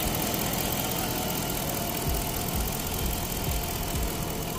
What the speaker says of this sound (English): other than my belts whining them because I got coolant all over them.